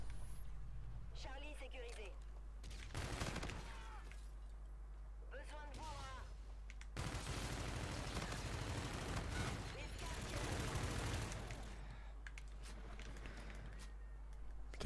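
Call of Duty Infinite Warfare gunfire bursts out in dense automatic volleys and scattered shots, fairly faint and mixed with other game effects, while someone talks intermittently between and over the firing.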